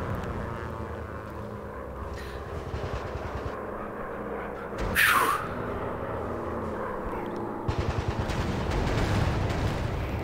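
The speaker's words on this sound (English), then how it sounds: "Nope, just explosions on the ground." Ground explosions in a WW1 warplane VR game, heard over a continuous droning aircraft engine, with one sharp loud blast midway and a swelling rumble near the end.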